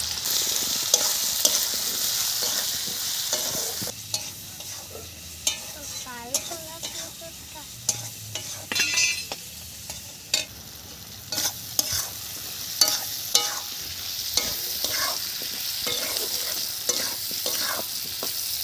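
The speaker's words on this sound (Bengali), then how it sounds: "আলু কটাও একটু ভাজা হয়ে যাবে" Potatoes frying and being stirred in a pan, a steady sizzle broken by repeated scraping stirs and light clinks from the utensil, close and fairly loud with no talking.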